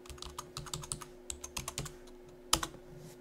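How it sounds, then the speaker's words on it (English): Quick, close, irregular bursts of key taps from a computer keyboard being typed on at a desk, with one louder clack near the end and no talking. "in here we're going to type in InstaPic"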